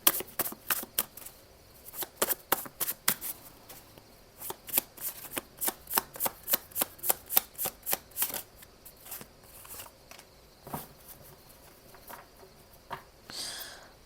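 Tarot cards are shuffled by hand in quick, crisp riffling bursts of soft papery flicks, close and quiet, easing off into a few slower card slides and taps before a message card is drawn.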